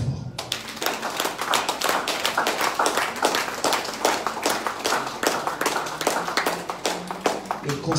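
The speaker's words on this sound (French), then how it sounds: "Acclamez fort." A church congregation at a Sunday service claps in a steady, rapid rhythm, loud and close, with voices and cheering mixed into the dense applause throughout.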